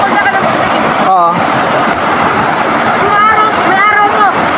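Steady broadband rush of the waterfall at Payaran Falls in Montalban, Rizal, water plunging into a deepening pool, continuous and fairly loud throughout, with people talking over it now and then.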